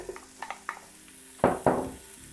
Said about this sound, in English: now I'm going to begin adding the garlic and onions